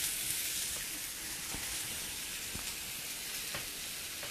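Zucchini and onions frying in a pan make a steady, close sizzle that runs throughout, with a few faint utensil taps along the way.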